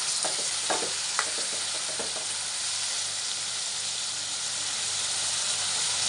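Mutton for a tamarind-leaf curry being stirred in a hot pan, a dense steady sizzle with a few scraping stir strokes early on, then continuous close frying hiss.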